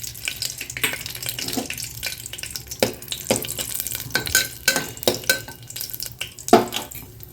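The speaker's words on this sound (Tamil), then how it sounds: "கொஞ்சமாக நெய் ஊற்றிங்க. முந்திரி பருப்பு தேவையான அளவு முந்திரி பருப்பு போட்டுங்க." Cashew nuts fry in a little ghee inside a pressure cooker for sweet pongal, giving a steady close sizzle broken by frequent scraping stirs and light clinks of a spoon against metal. No one speaks.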